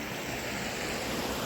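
A waterfall near a house after rain gives a steady, dense rushing roar, loud and continuous with no other sounds or voices.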